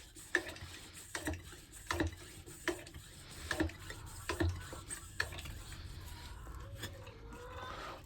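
Hand pump sprayer for disinfecting a chicken coop being pumped with air, a series of sharp rhythmic clicks and squeaks, close but fairly quiet.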